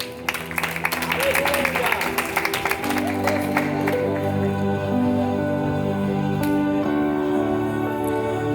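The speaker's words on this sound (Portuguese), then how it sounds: "Aplauda Jesus." A church congregation claps during a worship service, a busy patter of hands over sustained organ or keyboard chords that carry on underneath, the clapping thinning out as the music holds.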